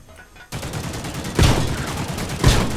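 Two loud shotgun blasts go off in a video game about a second apart, each a sharp boom with a short decay over steady game background noise.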